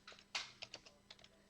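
Computer keyboard typing in a short burst of light, irregular key clicks, several close together and then a few spaced taps, fairly quiet and with no talk.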